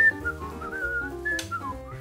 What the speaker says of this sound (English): you're just walking down the street, whistling that new tune that you just composed.